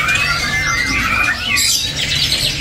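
White-rumped shama (murai batu) songbird giving loud, close, harsh squawks and chirps in a continuous burst, with a busy market-like background.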